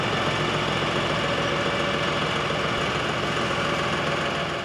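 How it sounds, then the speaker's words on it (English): A tractor engine runs steadily at a loud, even pitch, close by, while being set up to drive the hydraulics of a Lane Shark mower, with no people talking. "Let me turn the tractor on and turn it up,"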